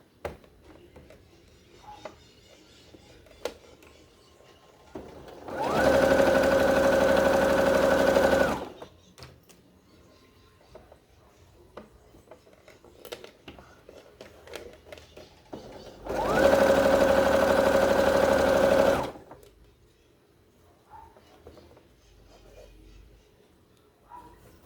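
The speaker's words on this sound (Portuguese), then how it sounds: "Eu costuro com um pé de máquina." A sewing machine stitches a French seam on a cushion cover in two bursts of steady, fast mechanical whirring, each lasting about three seconds, with quiet handling noises between them.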